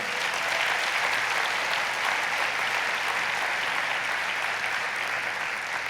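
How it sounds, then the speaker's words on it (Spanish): A church congregation claps together in a thick, continuous burst of applause, steady and loud from start to finish. "Denle un aplauso al Señor por eso"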